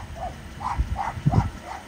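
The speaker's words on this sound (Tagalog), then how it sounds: "Nangangawa yung maliit na aso." A small dog barks in a quick run of five or six sharp yaps, fairly close and moderately loud, with a faint background hiss.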